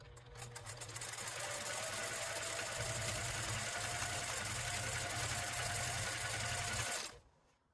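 A sewing machine stitching quilt layers runs steadily and close for about seven seconds, a fast even mechanical whir and chatter that stops abruptly at the end, no talk.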